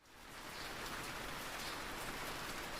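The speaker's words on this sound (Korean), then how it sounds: "정원엔 비가 내리고 있었습니다." Rain falling in a garden as a soft, even hiss of drops that holds steady and faint throughout.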